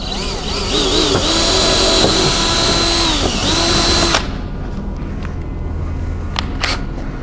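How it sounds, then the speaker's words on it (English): A power drill with a 3/8 bit bores through the aluminum skin of an Airstream European or Sport trailer, whining loud and steady up close for about four seconds before winding down, leaving low hum and a few brief knocks. "I'm going to come back up through with my 3/8 drill bit and drill these."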